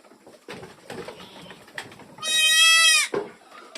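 A newborn goat kid gives one loud, drawn-out bleat after some faint shuffling and handling noises.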